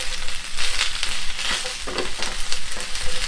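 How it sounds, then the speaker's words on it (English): Onion and capsicum frying over a high flame for a Chinese-style baby corn chilli dish, loud close sizzling with bursts of stirring and tossing, no voices. "And then herein goes the onion and the capsicum. flame should be high now,"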